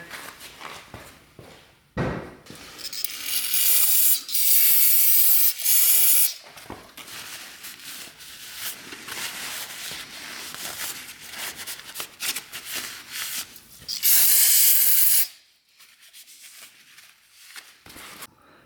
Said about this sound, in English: I'm gonna clean that out really well. Brake cleaner.